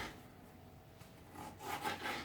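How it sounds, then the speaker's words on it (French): A kitchen knife dices small tomatoes into little cubes on a cutting board, giving soft, faint scraping and rubbing strokes that grow a little busier toward the end, with no talk. "Vous prenez votre couteau à découpe tomate. Et là on va essayer de les faire en petits carrés."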